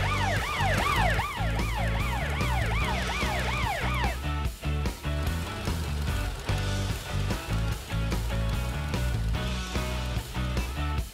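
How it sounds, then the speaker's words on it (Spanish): Cartoon tanker truck siren wailing in rising and falling sweeps for about four seconds, loud and close, then giving way to busy upbeat music. "No te olvides de utilizar tu sirena y tu luz, Amber."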